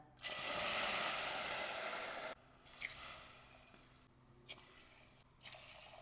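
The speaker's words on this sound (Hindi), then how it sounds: "तो हमने 4 कप पानी डाल दिया है।" Water poured from a measuring cup into a pot while making a sago dessert: a steady, close splashing pour for about two seconds, then quieter drips and small splashes.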